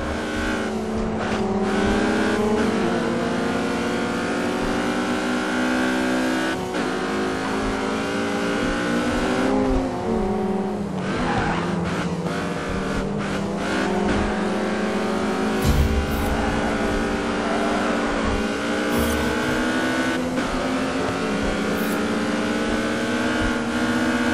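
Sports cars race in the video game GRID 2, their engines roaring loudly and continuously, with pitch rising and falling through gear changes and no voices over them.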